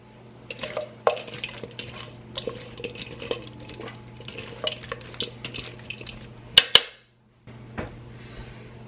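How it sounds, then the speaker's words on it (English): Food being tossed with oil in a bowl, soft repeated scraping and light clinks close up, ending in a couple of sharper knocks. "So I'm going to toss this with some oil."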